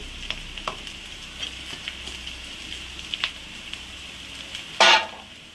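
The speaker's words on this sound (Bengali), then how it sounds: "বাঁধাকপি আর গাজর একটু ভাজা হয়ে গেছে, এবার সোয়াবিনগুলো দিয়ে দিলাম।" Soy chunks tossed into a pan of frying cabbage and carrot for vegetarian chow mein, a steady soft sizzle broken by scattered spatula clicks and one sharp scrape near the end.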